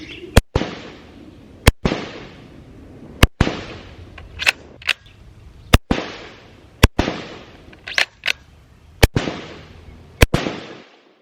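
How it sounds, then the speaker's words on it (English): An airsoft gun fires BBs at a barrel that is on fire, giving about a dozen loud, sharp cracks at irregular intervals, each followed by a short ringing decay, with no talking. "Yeah, I've been shooting a barrel that's on fire."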